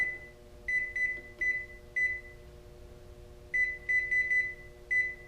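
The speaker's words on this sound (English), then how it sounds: "So now we're in air fry for 10 minutes" An RV microwave convection oven runs in air fry mode, a steady low electrical hum with a fan underneath, broken by several short, clear electronic beeps in quick clusters.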